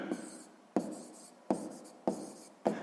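Pen or pencil strokes on paper as a math answer is written out by hand, five distinct scratchy bursts at steady intervals, close and clear with no voices.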